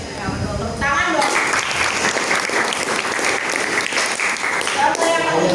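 An audience bursts into sustained applause, a dense, loud wash of clapping that starts about a second in and carries steadily to the end, with a voice audible briefly at the start.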